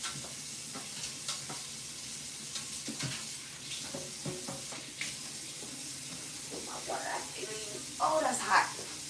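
Bacon fries in a home kitchen pan with a steady low sizzle and occasional pops and stirring sounds, while a person talks over it.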